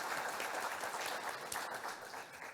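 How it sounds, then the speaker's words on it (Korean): Steady applause from an audience at a regional investment briefing in the Honam area; the clapping is fairly faint and distant and continues throughout. "우리 장관님한테 박수 한번 여러분 힘차게 쳐주십시오."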